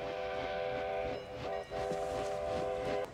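A train scene from Back to the Future Part III in which a loud, sustained multi-tone train whistle sounds, breaks off briefly twice, then holds again over rail rumble.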